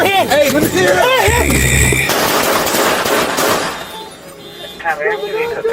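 Rapid bursts of gunfire crackle loudly over shouting voices ordering a man with a BB gun to drop it, a dense volley that fades into a brief lull before more shouting.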